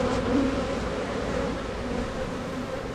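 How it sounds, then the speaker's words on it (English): A honeybee swarm drones in a dense, steady buzz, close and loud throughout with no voices, thousands of wings humming together as the bees settle into a box. "All these bees wouldn't be chilling out like that"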